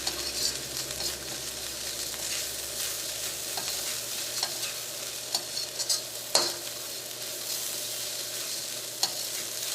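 Roasted oats and vegetables for upma are stirred in a hot pan, with a soft continuous sizzle, a spoon scraping and a few sharp clinks against the metal.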